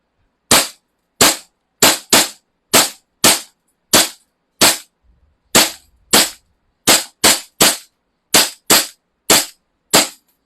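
An SRC airsoft gun fires about eighteen sharp, loud, close single shots at a fairly steady, unhurried pace, separated by near silence, with no talking.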